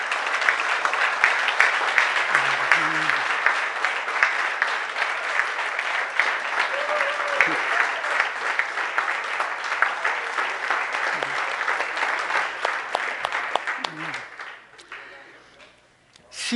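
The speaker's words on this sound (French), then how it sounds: "je demanderai à l'Église de se lever, de se tourner vers eux autres puis de les applaudir à tout rond" A church congregation on its feet applauds in a steady, dense wash of clapping that carries on for about fourteen seconds, with faint voices mixed in, before thinning out and fading near the end.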